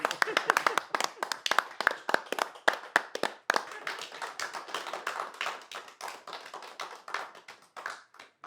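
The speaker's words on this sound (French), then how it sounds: "Applaudissons très fort pour Madame Niati" An audience applauds during a French game show, with a dense patter of claps that thins into scattered, uneven clapping near the microphone.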